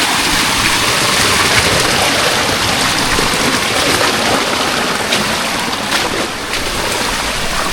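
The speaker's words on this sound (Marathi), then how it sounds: "हळूहळू पाण्याचा आवाज वाढतोय." A rushing stream near a Konkan waterfall roars in a dense, continuous wash of water noise, loud and unbroken throughout.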